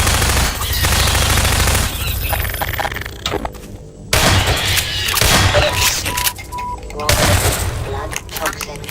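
Artillery gun firing in Half-Life 2: Lost Coast, with loud booming blasts and rapid bursts of gunfire in clusters separated by brief lulls, a voice speaking over parts of it.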